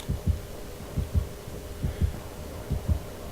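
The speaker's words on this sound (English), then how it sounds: "I usually run everywhere until I hear that heartbeat" Heartbeat cue in a survival video game: low double thumps repeating in a steady rhythm, about one pair per second, moderately loud over a faint background hum, with no talking.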